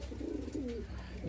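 A pair of Madras pigeons coo in low, rolling calls near the microphone, a couple of drawn-out phrases over a quiet hum, without any voices.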